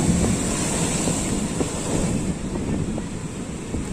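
Huge ocean waves surge onto Shankarpur beach at night during the new moon, a steady loud roar of surf with wind buffeting the microphone throughout, no clear individual breaks standing out.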